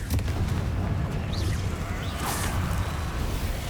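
A Confringo spell bursts in Hogwarts Legacy, a heavy, rumbling explosion that sustains as a dense, loud roar with faint magical whooshes above it.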